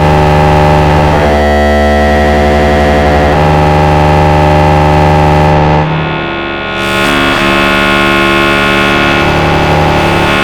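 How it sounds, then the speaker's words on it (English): A loud, sustained buzzy tone from an Instruo CS-L oscillator with a deep sub oscillator layer two octaves down, holding steady with a brief dip in brightness partway through. "You also have a sub oscillator out, which can be 2 octaves."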